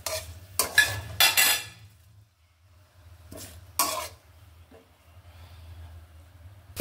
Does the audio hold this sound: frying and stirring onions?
yes